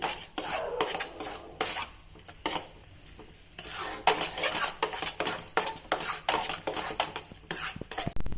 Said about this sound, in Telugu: ఇందులో వేసి బాగా కలపాలి. అంతా మిక్స్ అయ్యేలాగా బాగా కలపాలి.